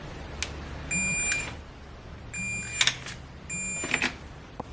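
A Snap-on digital torque wrench set to 22 newton meters gives three separate beeps about a second apart as it reaches torque on an oil filter housing bolt of a BMW 328i F30, with faint clicks in between.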